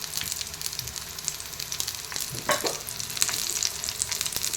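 Green pea and potato cutlets shallow fry in a little oil on a tawa, giving a steady close sizzle and crackle with a few louder pops and spatters partway through.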